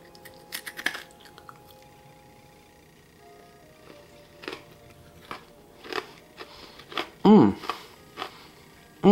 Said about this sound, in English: So let's taste this and I'm going to let you hear the crunch.